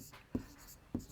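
Chalk or pen strokes while writing out a Class 10 probability example in a maths lesson, two short sharp taps or scratches about half a second apart, fairly close against a quiet room.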